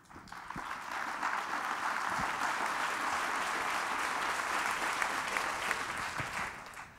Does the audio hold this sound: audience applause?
yes